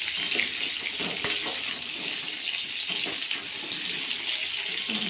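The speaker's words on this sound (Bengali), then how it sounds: "এটা একটু ভাজছি, নাড়াচাড়া করে নিতে হবে" Potatoes frying in a pan for a meat curry, a constant hissing sizzle with scraping stirs and small clatters, close and steady, no talking.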